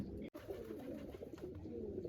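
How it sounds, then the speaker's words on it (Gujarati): Soft, low wild pigeon cooing repeats steadily at close range, a throaty murmur with a brief pause near the start. "મિત્રો જંગલી કબૂતર છે આવી ગયું છે જો અહીંયા બેઠું છે"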